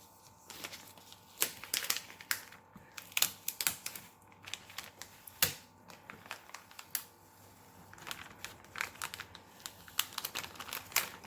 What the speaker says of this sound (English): so I kind of flatten my transfer tape and pull nice and slow and flat